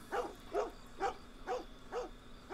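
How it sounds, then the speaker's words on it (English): Two dogs bark in Red Dead Redemption 2 on a farm, five evenly spaced woofs about half a second apart at moderate distance, with a steady background hum and no talk. "Two dogs. I was wanting to study these dogs."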